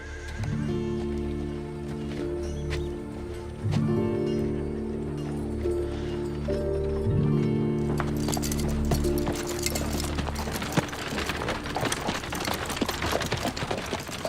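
Horses whinny while hooves clip-clop over a steady musical backing, and the clattering grows busier and louder toward the end.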